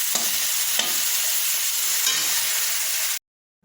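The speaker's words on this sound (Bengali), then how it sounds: "এদিকে শাকটাও ভাজতে রান্না করে দিয়েছি।" Leafy greens (saag) stir-fried in a pan, giving a loud, steady close sizzle with light stirring scrapes before it cuts off abruptly.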